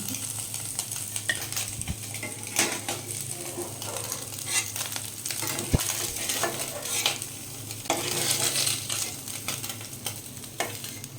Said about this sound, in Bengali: বাকি মাছগুলো আমি ঠিক একইভাবে ভেজে নেব।